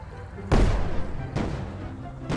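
Tank cannon fired in the video game Brick Rigs: a heavy booming shot with a long rumbling tail, followed by two further sharp blasts, loud and close.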